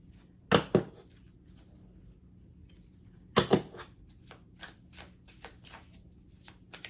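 Tarot cards shuffled by hand in two quick riffling bursts, followed by lighter card clicks and handling sounds over a quiet room hum, with no voices.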